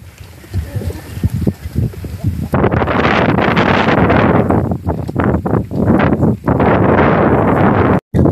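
Strong wind gusts buffet the microphone at an outdoor pigeon-racing spot, a loud, steady roar that swells and dips, with people talking underneath.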